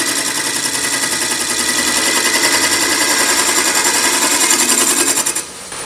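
Wood lathe spinning while a freshly sharpened scraping tool cuts shavings from a turning, a loud, steady, buzzing machine drone with rapid rhythmic chatter that runs throughout and drops slightly near the end.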